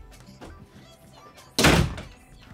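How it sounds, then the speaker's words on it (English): A door is pushed shut with a single loud thunk midway, after quieter shuffling and muffled movement. "Can you shut the door?"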